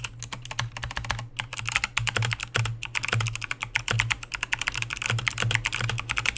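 Rapid, sharp clicking of an MSI Vigor GK71 Sonic mechanical keyboard with clicky blue switches typed on up close, each keystroke crisp, high-pitched and hollow, with no voices.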